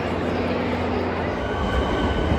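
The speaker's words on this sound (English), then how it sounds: "We're waiting for the train." A train rumbles steadily at a Melbourne station, a dense low roar with faint wheel noise, close and continuous without a break.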